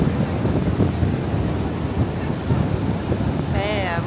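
Strong sea surf and heavy wind on Biscarrosse beach in the evening, a continuous roaring wash with buffeting wind noise on the microphone and a brief high tonal sound near the end.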